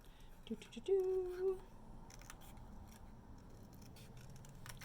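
Scissors cutting paper for a pop-up card, heard as a short close snip-and-slide cut, with faint rustling and quiet handling around it.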